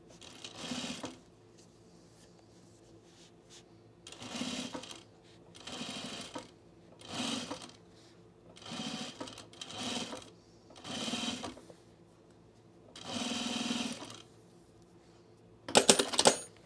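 A sewing machine stitches a seam on a baby bag in repeated bursts of a second or two, separated by short pauses, with a sharper clatter near the end.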